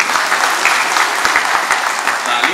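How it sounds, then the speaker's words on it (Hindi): Loud, close applause from an audience at a speech where Bihar's police chief is among those clapping, dense individual claps in a steady rhythm with no talk. "ताली तो बजा रहे हैं डीजीपी साहब"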